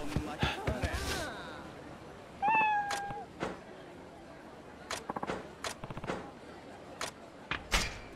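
A cat meows several times in Like a Dragon: Ishin!. The meows are short, rising and clear. Sharp clicks and thuds sit around them, and there are brief bursts of other game sounds.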